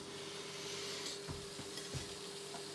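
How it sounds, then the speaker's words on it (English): Liver sears in a hot pan with a steady close hiss of sizzling, broken by a few soft scrapes or stirring knocks and a small clatter at the end. "all I want to do is I want to brown this off, just sort of sear it like you would with any other meat"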